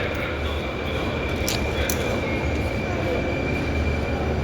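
A metro train rumbles through an underground station, a loud steady roar with a thin high whine and a couple of brief sharp squeals, close and continuous.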